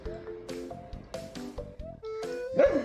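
A dog barking and whimpering: a string of short yips and barks mixed with high whining whimpers, fairly close and loud, going on steadily through the clip without talk.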